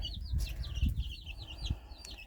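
A mother hen clucks softly to her chicks in a backyard coop while she drops food on the ground for them. Low, close clucking repeats throughout, with higher chick peeps over it.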